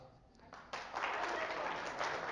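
A comedy club audience breaks into applause at a stand-up show, a dense wash of clapping that starts softly and swells after a moment, continuing steadily.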